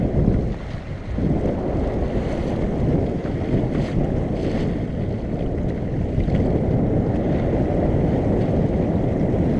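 Sailboat heeling under a stiff breeze, with constant loud wind buffeting and the wash of waves against the hull, a dense continuous rumble throughout.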